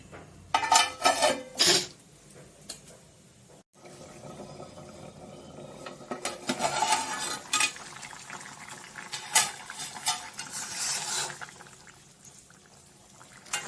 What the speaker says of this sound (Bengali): আমি এবার এটা ঢাকা দিয়ে দেবো।